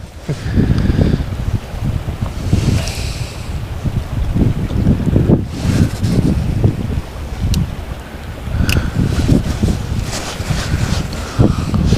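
Strong wind outdoors on a chilly December day at the water, roaring steadily and buffeting the microphone with loud low gusts throughout and no voices.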